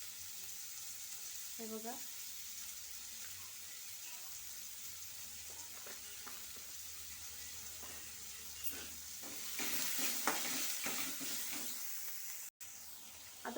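Cumin seeds sizzle and crackle in hot oil while being stirred, a steady frying hiss with scraping strokes that swells louder toward the end; someone speaks briefly near the start.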